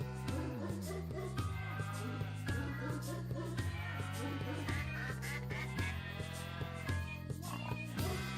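A song made entirely of animal sounds uses a duck's quack as its melody, repeated in bouncy, evenly spaced notes throughout, loud and continuous under the music.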